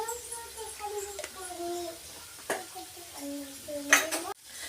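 Potatoes are turned in a pan with a spoon, giving scattered clinks and scrapes of metal on metal and a faint sizzle, with a voice speaking quietly in the background.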